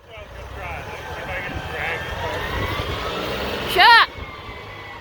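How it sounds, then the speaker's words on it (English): A 70 horsepower New Holland tractor rumbles steadily nearby while loading logs at a sawmill, its low engine drone continuous, with a short loud shout near the end. "luckily the landowner has this 70 horsepower New Holland tractor to help us get loaded"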